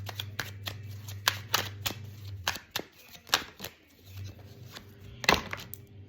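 Tarot cards being shuffled by hand, a run of crisp riffling snaps and slaps in uneven bursts, close and clear over a low steady hum.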